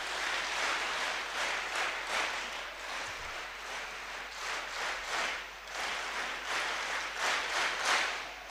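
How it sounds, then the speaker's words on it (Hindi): A huge crowd of students at the Siddhaganga ashram claps together, a dense, steady roar of applause that swells and dips in waves for several seconds. "तीन बार तालियां बजाएंगे।"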